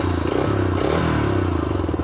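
A Yamaha YBR125G motorcycle, the newer 2020-21 model with a less restrictive air filter, idles close by with a steady, fast-pulsing single-cylinder putter and light mechanical clatter.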